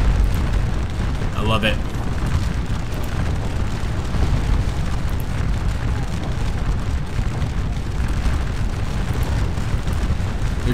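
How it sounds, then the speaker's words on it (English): Cannon fire and explosions from a Battle of Waterloo real-time strategy game roll as a continuous low rumble of booms throughout, with a brief burst near the start and a short spoken comment over the din. "we got some more artillery arriving"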